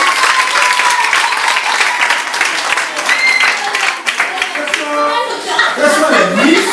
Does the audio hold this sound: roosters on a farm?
no